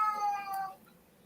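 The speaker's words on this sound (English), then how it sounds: "Oh, I hear a kitty cat." A cat meows once, a clear, fairly close, drawn-out and slightly grumpy-sounding call that fades out after about a second, with no voices over it.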